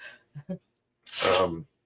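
A single sharp sneeze bursts out loudly after a couple of small breathy sounds, a short explosive gust that fades quickly into silence.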